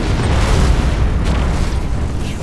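A bombing run in the space strategy game Battlefleet Gothic 2 produces a loud, continuous rumbling roar of overlapping explosions that fills the whole stretch without pause.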